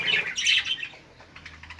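Small birds chirp and tweet in a breeding aviary housing mixed English and pseudo-English birds, a quick cluster of bright high calls followed by fainter, scattered chirps.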